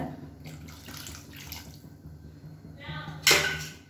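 Cornflour slurry is poured into simmering soup, a soft liquid trickle and splash, close by, ending in a brief louder splash as the last of it goes in.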